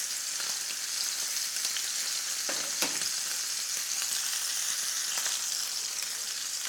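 A NY strip steak sizzles in a cast-iron skillet, a steady bright hiss with scattered pops and spatters, close and loud throughout.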